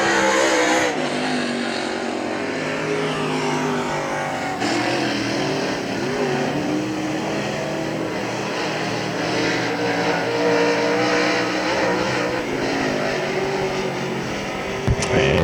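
Modified race cars roar around the Hagerstown Speedway dirt oval during a main event, a dense continuous engine drone with rising and falling pitch as the pack passes, while an announcer talks over the noise.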